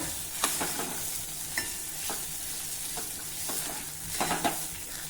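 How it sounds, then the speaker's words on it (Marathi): Dal and poppy seeds sautéing in oil on a low flame make a gentle, continuous sizzle, broken by intermittent scraping strokes of a stirring spoon, with no one speaking. "मंद आचेवर आता हे आपल्याला छान परतत राहायचं आहे। हे बघा, डाळ आणि खसखस ही छान परतून झाली आहे"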